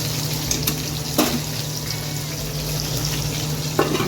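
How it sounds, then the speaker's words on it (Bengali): Potatoes frying in oil with black cumin and bay leaf, a constant close sizzle with a few sharp stirring clinks over it. "আলুটাকে একটুখানি ভেজে নিই, তারপরে পটলগুলো দেবো।"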